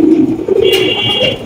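Pigeons cooing loudly and close by in a pigeon-selling setting, with low throaty coos rolling continuously through the short stretch and a brief higher sound partway through.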